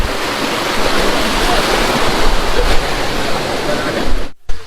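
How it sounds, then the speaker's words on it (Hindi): Water rushes strongly near a glacier cave at Kedarnath, a loud, constant roar close by that cuts out briefly just before the end. "पानी बहुत बह रहा है"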